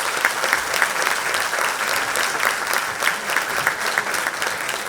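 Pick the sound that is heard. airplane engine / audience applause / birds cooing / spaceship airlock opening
audience applause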